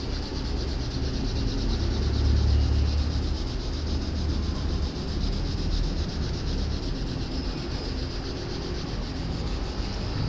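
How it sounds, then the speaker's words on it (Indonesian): Dyed vegetable-tanned leather is rubbed and buffed to a shine, giving a steady, close scrubbing friction that runs continuously for about ten seconds with no pauses and no voices. "gosok ini sekaligus ngebuff jadi mengkilat"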